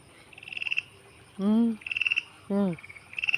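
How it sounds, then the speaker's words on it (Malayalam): Frogs call nearby from a water-filled village stream: two loud, deep croaks alternate with rapid, high-pitched pulsing trills, repeating in a regular pattern. "തവള വെള്ളത്തിലുണ്ട് കുഞ്ഞോ."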